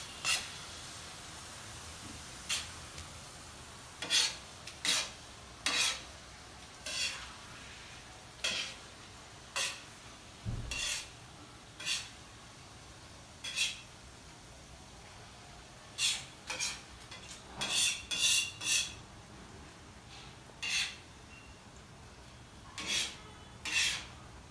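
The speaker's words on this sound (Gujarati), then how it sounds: "કોથમીર નાખી દીધેલ છે અને હવે એને મિક્સ કરવાનું છે." Surti gotalo being stirred and mixed after coriander is added: a series of sharp, close utensil clicks and scrapes against the pan, irregular and spaced apart, with a faint background hiss and no talking.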